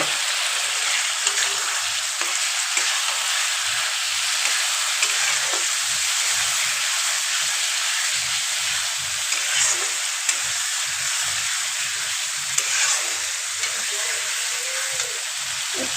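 Fried potatoes sizzle in hot oil as they are stirred into a home-style Bengali rohu fish curry, a steady, close, crackling hiss with soft scraping stir sounds throughout and no talking.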